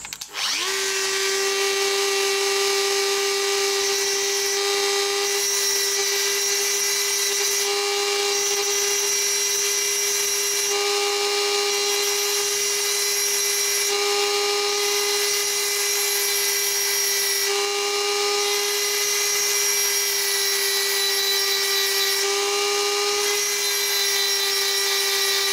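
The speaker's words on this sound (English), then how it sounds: "this is the diamond burr that I'm using. It's around about 3 millimeter diameter, and it cuts carbide, no trouble at all" A roughly 3 mm diamond burr on a modified D-bit grinder cuts into a carbide end mill, giving a steady, loud high-pitched whine that runs continuously, with slight pitch dips every few seconds.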